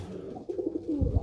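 Low, throaty pigeon coos rumble up close, a few soft burbling calls closing out a short moment.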